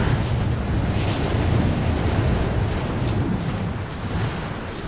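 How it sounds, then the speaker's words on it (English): A strong, howling wind roars on a mountain summit in Rise of the Tomb Raider, a loud, continuous broadband rush with slow gusty swells and no speech. "This wind is crazy."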